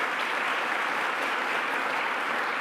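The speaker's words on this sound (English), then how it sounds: "Let's give her another round of applause." A room full of people applauds at a government press announcement in Buffalo, a dense and unbroken roar of clapping that holds steady from start to finish with no voices heard.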